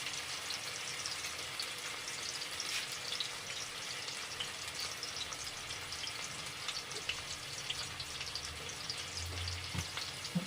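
Kebabs cooking on a low gas flame, a quiet, continuous crackling sizzle with fine popping spits scattered throughout, heard close with no talking.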